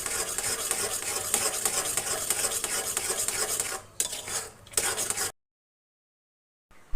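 A spoon stirs a thick semolina and jaggery filling in a pan, producing close scraping and stirring sounds with a faint sizzle, broken by short pauses before cutting off into silence.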